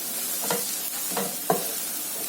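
Browned onions frying in a pan sizzle steadily while ginger garlic paste is stirred in, with three distinct stirring scrapes in quick succession.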